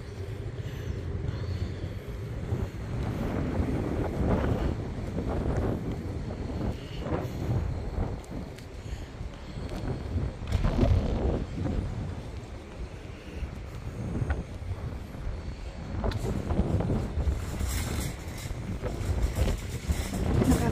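Strong outdoor wind buffeting the microphone in heavy, uneven low rumbling gusts that rise and fall throughout, with no speech heard over the roar.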